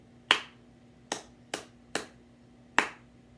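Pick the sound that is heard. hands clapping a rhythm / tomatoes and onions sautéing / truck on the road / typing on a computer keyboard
hands clapping a rhythm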